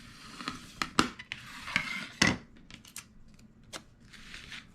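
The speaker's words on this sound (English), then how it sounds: "Trim away that excess." Scissors trimming excess paper or material on a budget gift box, several short, crisp snips up close at an uneven pace, with faint handling rustles between them.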